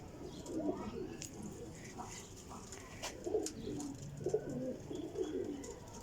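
Soft, low pigeon coos repeat in short rounded phrases over a steady outdoor background, with occasional faint chirps and a bit of distant voice.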